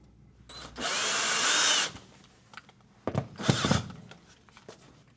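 A handheld power drill drives screws to fix a replacement thermostat to a wall. One steady whirring run of about a second is followed by several shorter, choppier bursts, close and loud, with no talking.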